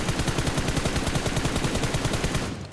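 Rapid automatic gunfire in a mobile shooter game, a dense, loud burst of evenly spaced shots lasting almost three seconds before cutting off, with no voices.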